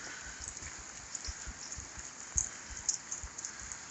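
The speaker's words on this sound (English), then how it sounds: "welcome to a glorious, rainy Northwest Oregon morning" Steady light rain patters outdoors on a Northwest Oregon morning, with soft irregular drops tapping nearby surfaces and a faint high hiss throughout.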